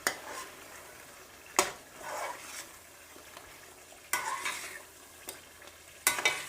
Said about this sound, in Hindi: अब हमें क्रीम को 3 से 4 मिनट बिल्कुल भूनते रहना है